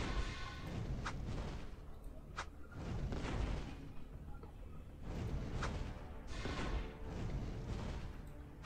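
Repeated booming shots and thuds from enemies firing in the archery video game I Am Archer, dull heavy impacts recurring every second or so over a continuous rumbling game backdrop.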